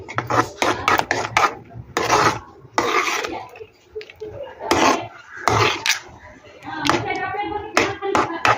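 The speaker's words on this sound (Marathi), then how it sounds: "आपण आणखी अर्धा चम्मच तूप टाकून घेऊ आपण मिक्स करून घेऊ" Grape sweet mixture is stirred with ghee in a pan, giving repeated rasping, scraping strokes in uneven bursts at close range, interleaved with a person talking.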